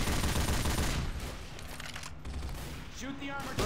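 Bursts of gunfire from Left 4 Dead 2, loud and continuous through most of the moment, with a shouted voice and game effects layered over the shooting.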